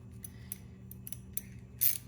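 A socket wrench loosens the spark plug of a small engine with a few faint, sparse ratchet clicks and a brief louder scrape near the end, close and quiet, no talk.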